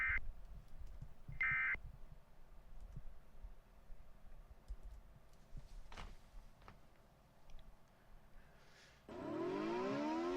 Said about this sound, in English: Sirens will sound when the information is about to broadcast.